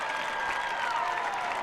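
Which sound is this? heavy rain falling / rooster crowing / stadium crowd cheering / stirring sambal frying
stadium crowd cheering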